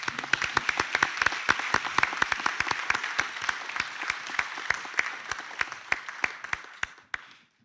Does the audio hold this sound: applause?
yes